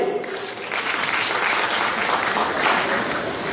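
An audience at a Shiv Sena birthday gathering applauding Thorat Saheb, dense sustained clapping from a large crowd, loud and continuous for the whole stretch.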